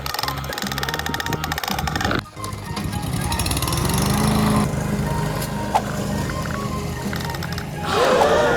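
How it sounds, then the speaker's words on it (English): A small toy lawn mower runs with a buzzing, rattling motor whir that continues throughout, briefly dipping near the start, with a bright chirpy toy sound rising at the end. "It's a little mower."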